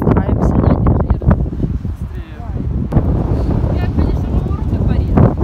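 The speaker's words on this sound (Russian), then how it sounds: "Здесь, конечно, очень сильный ветер, и может быть плохо слышно." Strong wind buffets the microphone in loud, roaring gusts, and a voice talks beneath the constant rumble.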